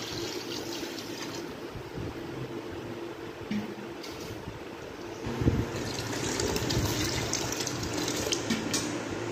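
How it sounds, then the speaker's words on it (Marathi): Water pouring over wheat grains in a large container to soak them, a steady close trickle and splash that grows fuller and louder partway through. "आपल्याला जास्तीचं पाणी टाकायचे"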